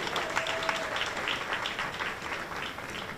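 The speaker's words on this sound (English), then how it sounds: "Give her a round of applause, you guys." An audience at a New York media launch event breaks into sustained applause, a steady wash of many hands clapping with no voices over it.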